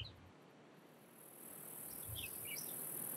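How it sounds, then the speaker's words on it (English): Synthetic cicada field from an Unreal Engine sound design demo: a steady high-pitched insect buzz with scattered chirps, continuous and gently rising in loudness over a soft noisy bed, no voices. "there's some cicadas. We're sort of like a field of cicadas around us"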